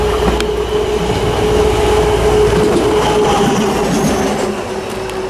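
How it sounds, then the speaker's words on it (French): A yellow railway locomotive and its train roll past close by, a loud steady rumble with a sustained wheel tone and occasional clatter that eases slightly toward the end. "C'est la même loco qu'on a eu tout à l'heure mais sauf que là elle est jaune"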